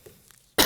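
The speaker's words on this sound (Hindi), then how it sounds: "आपको बड़ा बुरा फील होगा मेरी खांसी सुन के" A single short, sharp cough at close range breaks the near silence near the end, a harsh burst with no talk around it.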